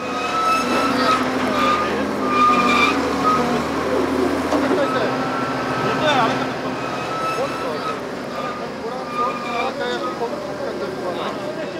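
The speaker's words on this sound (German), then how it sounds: "Bagger und Lastwagen wurden eigens von der Armee gemietet." Excavator and trucks hired from the army working on a field excavation, a steady loud rumble of engines and machinery with high tonal reversing beeps and clanking throughout, under a continuous broadband roar.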